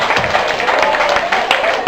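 A crowd at the Wargaming community party claps for Arthur, a dense, loud wash of applause from many hands, close and continuous throughout.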